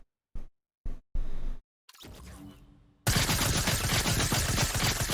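SMG fire in Fortnite: a few short separate bursts of rapid shots, then a sustained loud stream of automatic fire starting about three seconds in and running to the end, with no one speaking.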